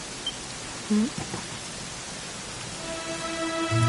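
Steady rain falls in the Dragon Quest XI game on PS4 as an even, soft wash of noise, with a faint tonal sound beginning partway through and growing slightly louder toward the end.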